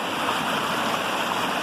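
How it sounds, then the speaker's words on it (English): Steady broadband rush of a stream flowing around and past a big fallen log lying down its course, a continuous close water wash with no voices. "Kind of rerouting the river all by itself, the stream all by itself."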